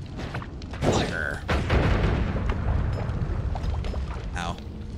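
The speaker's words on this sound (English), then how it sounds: "Hot firebolts always arc upwards, and you're shooting three out at a time." Fire bolt spells from a video game burst in deep, rumbling booms, fired three at a time in upward arcs. Several heavy blasts roll into one another over a few seconds while a voice calls out over them.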